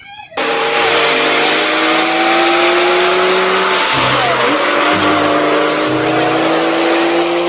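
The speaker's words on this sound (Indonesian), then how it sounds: "Wah, ada mobil truk towing membawa kendaraan." A tow truck hauling another vehicle, with a loud, steady engine drone and shifting whining tones that run continuously for several seconds, rising and dipping slightly partway through.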